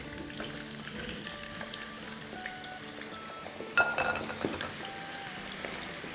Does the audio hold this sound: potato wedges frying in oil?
yes